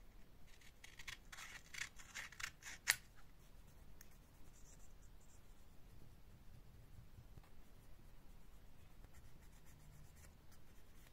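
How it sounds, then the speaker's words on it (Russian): 1000-grit sandpaper rubbing the plastic surface of a 1/32-scale Albatros D.III model kit: faint, close, steady scratchy strokes with a few sharper scrapes early on and no speech. "Будем использовать наждачную бумагу"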